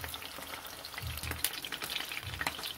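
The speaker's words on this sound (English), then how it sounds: "so it is frying and popping all over the place" Fish frying in hot oil in a pot for Jamaican brown stew, a faint steady sizzle broken by scattered crackles and pops, with no talking.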